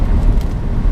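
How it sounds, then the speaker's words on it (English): A Mercedes SLK sports car cruising with its roof down on busy summer roads, a close steady low engine and road rumble with no voices. "I love this car. Mercedes SLK, a little too sports car."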